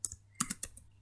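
A short burst of keyboard typing, a handful of crisp nearby keystrokes in quick irregular succession over faint hum, without speech.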